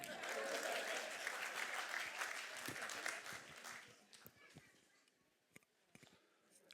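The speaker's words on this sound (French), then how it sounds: "on peut l'applaudir" A crowd applauds steadily for about four seconds, then the clapping thins to a few scattered claps before dying away.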